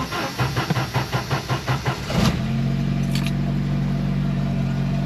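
A Jeep YJ engine cranks in a quick rhythmic churn of about a dozen beats, then catches and drops into a steady, close idle.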